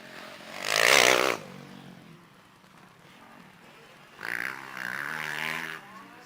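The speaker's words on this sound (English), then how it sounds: "Then it's a 54 of Dylan Anderson on the Kawasaki" A Kawasaki motorcycle at a race starting gate, its engine rising in two loud revving bursts, a short one early and a longer one later, separated by a quieter stretch of low background noise.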